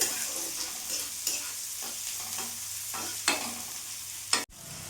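A whole finely chopped large onion fries in mustard oil in a pan, a steady soft sizzle broken by a few sharp scraping stirs, near and alone without any voices.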